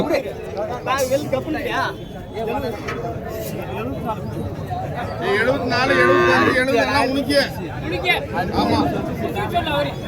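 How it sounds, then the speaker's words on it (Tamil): Native breed cows moo loudly, with one long, drawn-out low call, over a busy cattle market of people talking and chattering nearby. "ஸோ நாட்டு பசுமாடுங்க, ஒரு ஜோடி."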